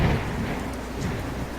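Steady rain pours down with a deep thunder rumble at the start, a dense night storm ambience with no talking.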